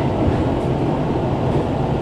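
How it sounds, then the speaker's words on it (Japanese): A JR E233 commuter train rushes through the farmland of the Kujukuri plain, its loud, steady rumble and wheel roar close by and unbroken, with no voices. "通勤型の E233 が駆け抜ける"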